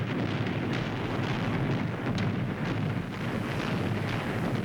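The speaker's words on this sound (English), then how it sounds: "The bombing of Berlin." Dense, continuous rumbling roar of the bombing of Berlin in a World War II drama, a thick wall of blasts and low booms with no pauses, loud and sustained.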